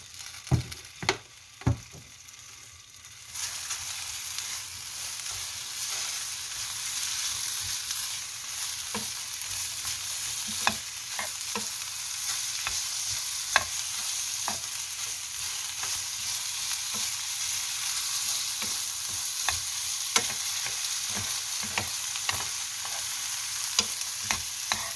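Potatoes stir-frying in hot oil for a Korean gamja bokkeum, a steady close sizzle with scattered sharp pops and spatula clicks, starting quieter then rising to a continuous loud fry.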